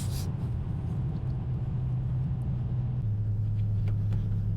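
Right-hand-drive Mazda RX-7 rolling along, its low, steady engine drone and road rumble filling the cabin at a constant level, with a slight shift in pitch partway through and no voices.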